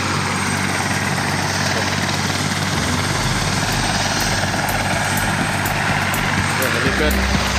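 A helicopter at a helipad in Duliajan runs its engine and rotor with a loud, steady close-up roar and throbbing beat, the pitch shifting slightly as it prepares to lift off.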